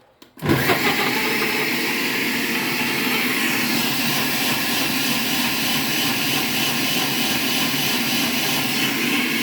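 A kitchen blender holding water, whole peppercorns and spices for a morning drink switches on abruptly and runs with a loud, steady, close whirring roar that holds unchanged to the end.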